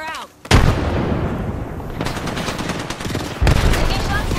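Apex Legends gunfire erupts in a sudden loud burst, then continues as sustained rapid automatic fire with a second sharp volley near the end, close and dominant over the game sounds.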